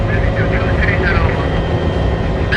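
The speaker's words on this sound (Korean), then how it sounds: "1번 코브라 헬기가 기지와 교신을 끝내면 이륙을 시작한다." A Cobra attack helicopter of an army helicopter unit takes off from its base, a loud, steady engine and rotor roar that runs unbroken under a narrator's voice.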